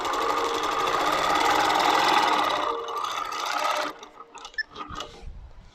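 A Moxie longarm quilting machine stitching on a loft frame runs in a steady, close mechanical hum for about four seconds, then stops, leaving a few soft handling clicks and knocks.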